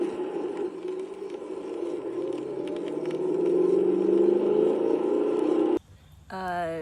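A car engine revs hard in first gear, its drone climbing steadily in pitch, then cuts off briefly at the shift before rising sharply again in second gear. It sounds close and loud.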